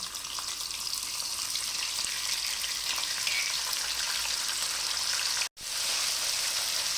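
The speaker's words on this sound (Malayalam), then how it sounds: "അങ്ങനെ നമുക്കിത് മുഴുവൻ ഞാനതുപോലെ വറുത്ത് പോരാം." Anchovies fry in a pan with a constant, close crackling sizzle. It runs evenly and unbroken apart from a momentary dropout near the end, and no one speaks.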